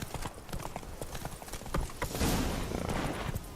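Hooves of Roach, Geralt's horse in The Witcher, clip-clop in a steady trotting rhythm close by, getting a bit louder and fuller toward the end, with a faint voice underneath.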